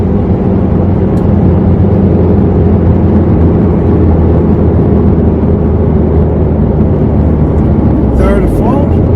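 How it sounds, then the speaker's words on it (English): A car's engine drones steadily from inside the cabin as it slows under engine braking after the throttle is released. The low, even rumble continues for the whole stretch. "Let off the gas, engine brake."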